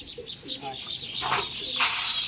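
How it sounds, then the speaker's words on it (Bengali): Soft bird chirps and brief coos come from nearby Madrasi pigeons leaving their loft, mixed with a faint fluttery background. "সমস্ত ম্যাড্রাসি পায়রা এখন বার হচ্ছে"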